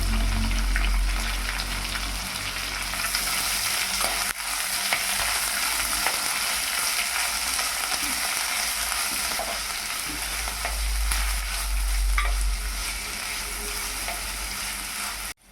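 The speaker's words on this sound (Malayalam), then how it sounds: "ഒരു പിടി സവാള കട്ട് ചെയ്തത് കൂടി ചേർത്ത് നല്ലതുപോലെ വഴറ്റിയെടുക്കാം." Chopped onions sauté in hot oil with dried red chillies, a steady dense sizzle and crackle throughout with occasional scraping stirs, fairly close and with no voices.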